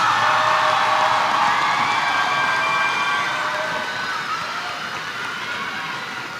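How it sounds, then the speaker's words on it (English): A high school graduation audience claps and cheers loudly for the first row of graduates, a dense continuous roar of applause with whoops that gradually fades. "Please join me in giving the graduates of Round 1 a round of applause"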